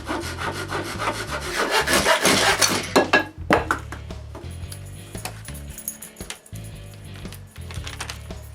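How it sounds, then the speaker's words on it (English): Close, loud scraping and rasping as excess wooden strips are cut off the top of a handmade wooden basket, with steady rhythmic strokes that become choppier and lighter partway through. "I cut the excess off the top of the basket."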